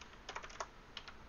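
Quick, light keystrokes on a computer keyboard, a short burst of several taps followed by two more after a pause, faint and close.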